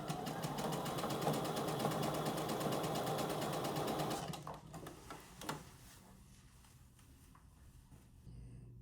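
A sewing machine, likely a serger, stitches a T-shirt dress for a Smart Doll Classic doll in a rapid steady mechanical chatter for about four seconds. The run then stops, followed by a few handling clicks and quiet.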